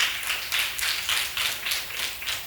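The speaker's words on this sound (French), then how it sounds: "Sous vos applaudissements, s'il vous plaît." Steady applause from a crowd, many hands clapping together in a continuous, even wash of sound.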